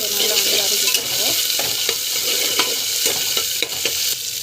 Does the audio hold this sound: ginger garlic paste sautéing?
yes